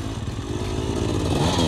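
A motorcycle fitted with a grip decal on a test ride roars close and loud, its engine note holding steady and climbing slightly as it accelerates, with no voices over it.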